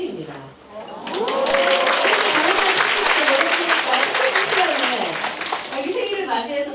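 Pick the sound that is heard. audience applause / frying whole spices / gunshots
audience applause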